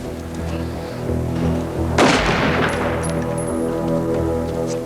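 A single sharp gunshot blast cracks out in a dramatized execution scene. It rises over a steady, droning musical background and then decays with a rumbling tail.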